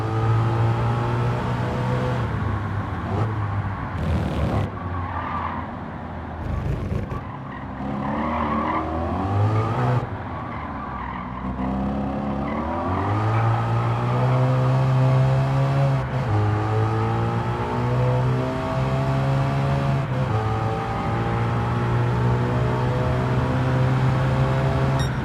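Gran Turismo 7 race car, a Super Formula-style single-seater, driving continuously with a loud revving engine that rises and falls through gear changes and throttle pumps, tire squeal through corners, no talk.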